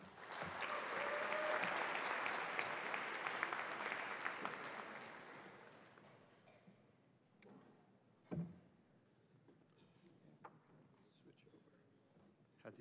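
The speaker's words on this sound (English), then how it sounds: "let's have a round of applause for Andrew Stark." Audience applause for a presenter at the MIT Battlecode 2008 final tournament: loud clapping for about five seconds that fades, followed by quieter room noise with scattered knocks and thumps.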